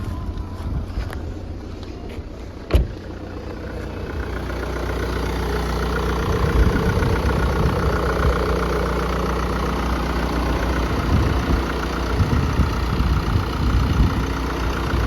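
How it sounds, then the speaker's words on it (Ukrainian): A 2020 BMW 520d diesel engine idles cold with a steady low rumble, joined by wind buffeting the microphone, with one sharp knock early on; no speech. "Двигун працює тут просто ідеально."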